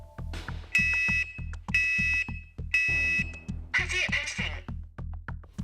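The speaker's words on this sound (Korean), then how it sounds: "그리고 3분이 지나자 경보음이 시끄럽게 울립니다." Smoke alarm sounding in a fire test where bedding on a bed is set alight, giving loud repeated shrill beeps in a steady rhythm over low pulsing background noise.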